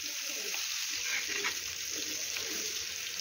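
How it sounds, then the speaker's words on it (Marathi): Bitter gourd frying in oil in a pan, a steady bright sizzle with occasional crackles and stirring sounds, close and continuous without speech. "आता यानंतर आपण हे कारले या तेलामध्ये छान असे फ्राय करून घेऊया।"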